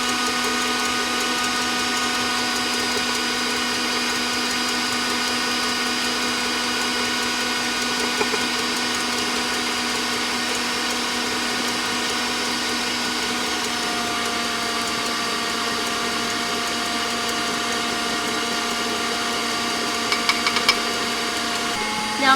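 An electric mixer whips egg whites with sugar for French macarons, a loud, steady, even motor whine running without pause, with a few small clatters near the end.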